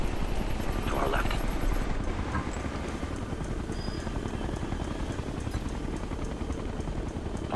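Helicopter in the tactical shooter game Ghost Recon Future Soldier, a steady dense rotor chop filling the whole stretch at moderate level, with a brief high whine near the start and faint game effects mixed in.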